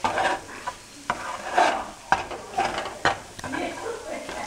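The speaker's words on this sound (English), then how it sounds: "frying eggs in a pan that are totally like, screwed up" Eggs sizzle in a hot frying pan while a utensil scrapes and taps against it in irregular strokes, close by.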